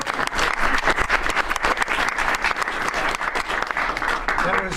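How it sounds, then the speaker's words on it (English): A room full of press reporters bursts into applause, a sustained burst of many hands clapping at close range, loud and even throughout. "The press actually broke out in applause."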